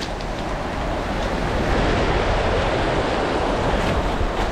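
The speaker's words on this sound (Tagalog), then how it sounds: "Malakas yung agos." A strong river current rushes steadily and loudly at a tilapia fishing spot, a continuous broad roar of flowing water with a windy edge and no break.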